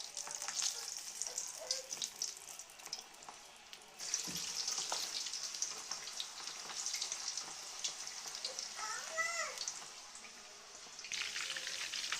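Mutton meatballs deep-fry in hot oil with a continuous bubbling sizzle, quiet but close, briefly interrupted by a soft knock and faint splashy movement, with no speech.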